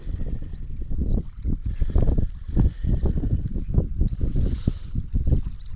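A small boat travels on the Danube near Arapu island, its engine and hull making a steady, loud rumbling wash with wind buffeting the microphone throughout.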